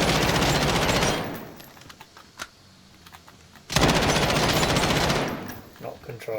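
Bursts of uncontrolled automatic gunfire in a first-person shooter game, two long loud volleys of rapid shots separated by a quieter gap with a few stray shots.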